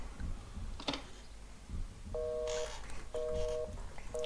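Telephone keypad tones beep in The Suffering video game, several steady two-tone DTMF presses in a row after a few quiet clicks, clear and fairly faint under a low background hum.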